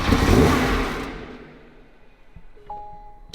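A crashed and repaired Porsche GT3 RS engine fires up with a loud, rough roar that fades over about a second into a low idle, followed by faint clinks.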